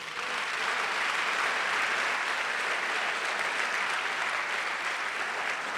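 A church congregation claps steadily at a moderate level, a dense and even wash of applause with no voice standing out.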